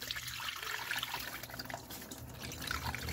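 Coolant drains from a pipe on a Ford EcoBoost 2.0L engine during head gasket removal, a continuous close trickling and splashing of liquid with no voices.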